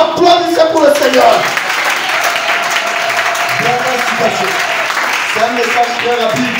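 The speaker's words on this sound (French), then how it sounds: "Qui applaudissez pour le Seigneur." Church congregation applauding at a New Year's Eve service at a gospel tabernacle, a steady broadband wash of clapping throughout with voices and singing tones rising over it at the start and again near the end.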